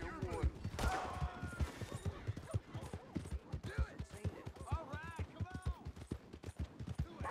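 Horse hooves clip-clop steadily in the Red Dead Redemption 2 video game, a close, rhythmic run of hoofbeats mixed with game ambience and occasional background voices.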